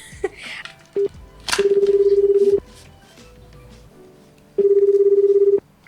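Telephone keypad tones beep as a number is dialed, then a ringback tone sounds twice in long, even bursts with a pause between, loud and close, with only faint background noise around it.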